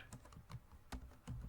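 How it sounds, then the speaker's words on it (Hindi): Keys on a computer keyboard are tapped in a quick, irregular run of about eight soft clicks, close and quiet, with no voice over them. "यहाँ पे जाके आपको टैप करना है, CMD लिखना है और फिर लिखना है जुपिटर"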